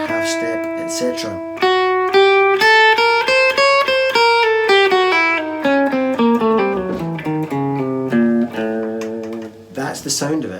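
An electric guitar runs through a half-step whole-step diminished scale, single clean notes rising and then descending in an even stepwise line, close and clear with no talking over it.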